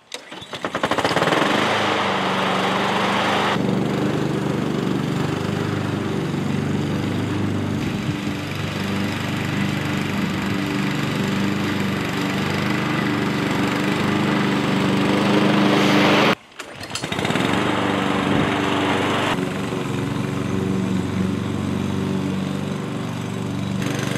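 A Honda HRX and a Toro mulching mower, one at a time, running on a lawn: a loud, continuous engine drone with a brief cut and restart near the end as the mowers switch.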